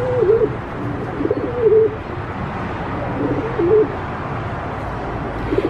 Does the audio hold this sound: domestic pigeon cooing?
yes